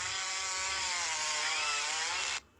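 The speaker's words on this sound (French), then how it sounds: "Et je vais appeler tronçonneuse. Tronçonneuse, voilà, confirmé." A video game chainsaw roars steadily at full throttle, a loud, buzzing drone that holds for over two seconds before cutting off abruptly, with no voices over it.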